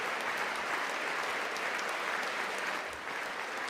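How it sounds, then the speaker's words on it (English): Sustained applause fills a large chamber during the State of the Union address as lawmakers from both parties clap for a bipartisan moment, a dense, steady roar of many hands throughout. "Bipartisan clap."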